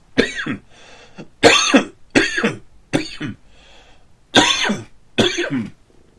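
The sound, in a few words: coughing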